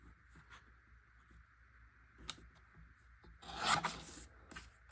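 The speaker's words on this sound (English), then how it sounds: "let me just trim off a little bit more" Scrapbook paper being trimmed for a small journaling box, with faint rasping cuts and a louder scraping burst near the end, heard close with no talking.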